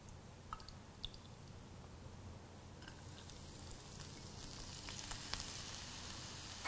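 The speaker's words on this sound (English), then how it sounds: "And then we're gonna start sauteing" Vegetable oil sizzles quietly in a pan while sauteing, a soft steady crackle with faint scattered pops that grows slightly denser toward the end.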